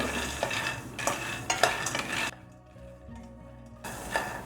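Peanuts for shenga holige roast in a pan on a low flame, giving a close crackle with scraping stirs. The sound dips quieter for a second or so midway, then the crackling and stirring pick up again.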